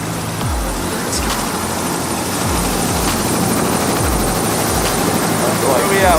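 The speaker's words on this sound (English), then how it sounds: "We're on a helicopter right now." Steady rotor and engine drone from inside a helicopter flying over Chicago, loud and continuous with a rhythmic low beating, with people talking over it.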